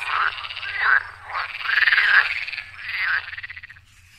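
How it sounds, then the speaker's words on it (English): Frogs croak in a swamp, a loud nearby chorus of rapid pulsing croaks coming in several bursts over a faint low hum. "Kuwi and Huhu stake out a swamp full of flavorsome frogs."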